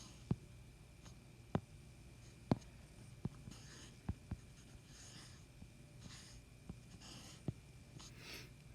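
A triangle is drawn by hand, with faint pen or marker strokes and sharp little taps on the writing surface scattered through a quiet room, alone and close by.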